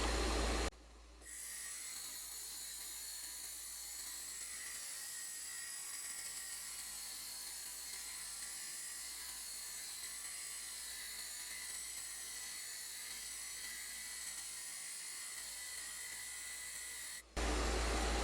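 A wood lathe turning a chess bishop with a loose tailstock, giving a steady high-pitched whine and hum that runs unbroken for most of the stretch, then cuts off abruptly near the end.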